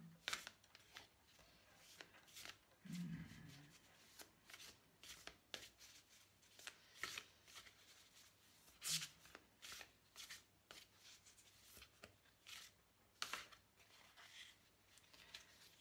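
Cards are shuffled for a spiritual guidance reading before one is drawn, with soft riffling and flicking bursts that repeat quietly on their own in a still room.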